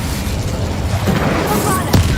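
An Incendio fire spell cast in Hogwarts Legacy gives a dense, loud fiery roar with a booming burst near the end, heard amid a busy game soundscape.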